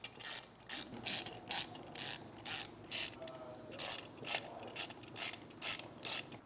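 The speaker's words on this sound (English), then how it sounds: "I'll use a 7/32 hex head bit and get these tightened down." A ratchet driving a 7/32 hex head bit tightens bolts while rear air helper springs are installed, giving about a dozen crisp clicking bursts in a steady rhythm, close and moderately loud, with no talking.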